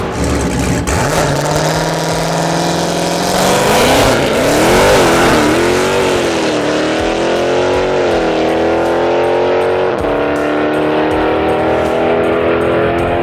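Mustang and Challenger race cars roar close by, one engine rising in pitch as it revs hard and accelerates away, a loud sustained drag-race engine noise with no talk.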